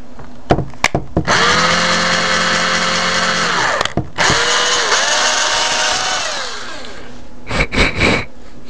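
An electric drill enlarging a hole in a Maglite flashlight whines in two long bursts with brief pauses between, spinning up and slowing down, followed by a few short clicks and rattles.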